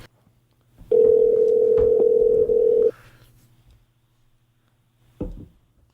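A single long telephone ringback tone lasts about two seconds, loud and steady over a faint line hum, followed by a short click-like burst.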